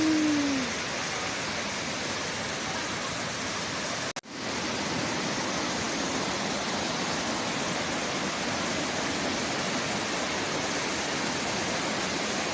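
Sekar Langit waterfall on Mount Andong pours with a steady, dense roar of falling water that continues unbroken throughout, except for a momentary dropout.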